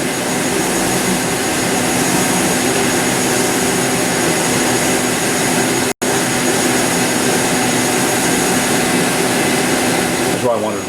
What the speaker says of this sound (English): That's why I wanted to run the spindle first, because this is only 800.